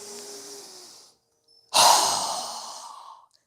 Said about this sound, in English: exhale through our mouth with a strong exhale